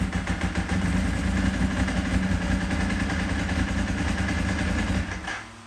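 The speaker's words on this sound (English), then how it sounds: "Bike starts right up." A Ducati motorcycle engine runs at a steady, loud idle close by with no talk over it, then cuts off near the end and leaves a fading tail.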